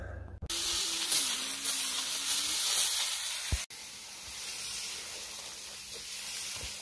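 Water sprays in a steady hissing stream onto a compost heap topped with leaves, cutting off briefly midway before resuming, with no talking.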